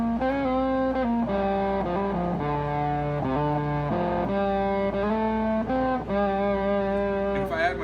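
An electric guitar played through a Vick Audio 73 Ram's Head distortion pedal gives a clear, sustained distorted tone, with a continuous melodic line of held notes and shifting pitches.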